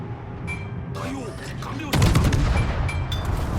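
Warship gunfire in World of Warships, with heavy naval shells booming in a dense, loud barrage that swells sharply partway through over a constant game background rumble.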